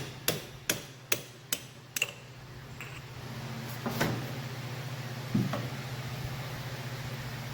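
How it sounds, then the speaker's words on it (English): A rubber hammer taps a fork part from a 1975 Norton Mk3 motorcycle five times in a steady rhythm, followed by a couple of isolated knocks over a low workshop hum. "Rubber hammer."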